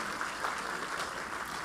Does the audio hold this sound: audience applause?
yes